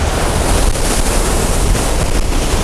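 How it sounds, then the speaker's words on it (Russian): High storm waves crash on a pebble beach near Simeiz in Crimea, a loud, dense roar of surf and spray with wind buffeting the microphone. "Ну, конечно, высокие вот такие волны и намывают гальку."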